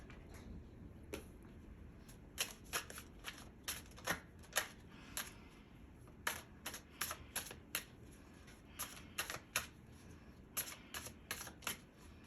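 Tarot cards are shuffled for a reading, a faint series of quick papery riffles and snaps in irregular bursts, close and quiet with no talk.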